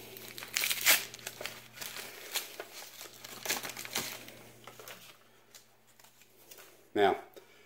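Paper wrapping on an Israeli Defense Force field dressing is torn open by hand: close crinkly rustling and tearing bursts, then quieter handling and a sharp final rip.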